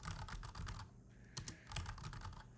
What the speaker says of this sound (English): we're typing along